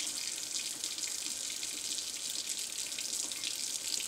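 Hot water runs from a sink tap onto a glass candle jar being cleared of wax, a steady close hiss and splash that continues without pause or speech.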